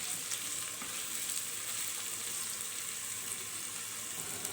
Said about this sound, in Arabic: ابتدي اضيف البصل والثوم والفلفل كده بالطريقه دي مع بعض، ياخدوا تشويحه بس مع بعض كده.